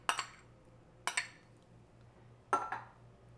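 Dry ingredients such as barley, corn and black beans tipped into a mixing bowl for stuffed bell peppers, giving three short clattering pours with clinks against the bowl, spaced about a second apart over a faint steady hum.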